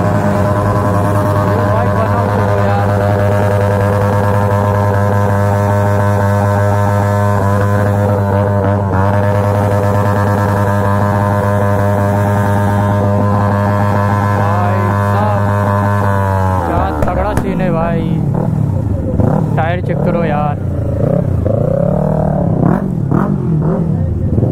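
Loud, sustained drone of superbikes such as the Kawasaki ZX10R and Suzuki Hayabusa idling and revving together at an Independence Day group ride of over fifty bikes, steady for most of the stretch before shifting into varied, wavering revs.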